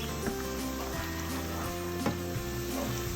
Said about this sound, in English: Add locust beans and fry it for 2 minutes.